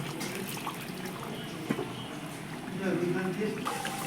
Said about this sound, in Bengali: মাংসটা এবার আমি সামান্য অল্প জল দিয়ে দেবো